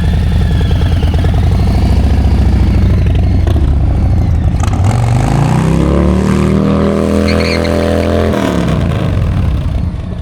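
A Harley-Davidson motorcycle engine runs loud and close, with a deep, lumpy idle rumble that revs up, holds a throaty drone, then drops back toward idle.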